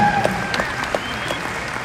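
A rodeo crowd in Bismarck, North Dakota claps at an opening ceremony, a dense, steady patter of many hands with a faint tone lingering underneath, moderately loud and continuous.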